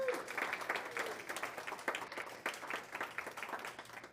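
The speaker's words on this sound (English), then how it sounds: "let's applaud." Church congregation applauding during a Sunday service, a moderately quiet, steady patter of many hands clapping that continues evenly for several seconds.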